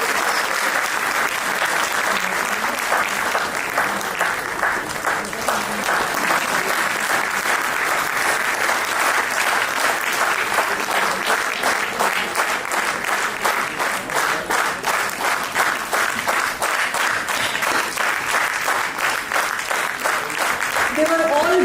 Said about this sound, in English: Clapping should not stop.